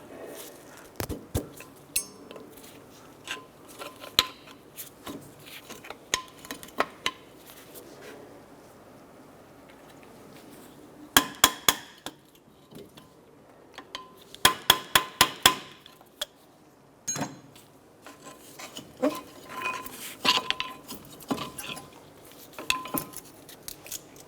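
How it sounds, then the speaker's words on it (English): Front brake pads are worked out of the caliper on a 2006–2013 Chevrolet Impala, with scattered sharp metallic clicks and clanks, several quick clusters of knocks, and quiet pauses between them. "I'm going to go ahead and remove our brake pads."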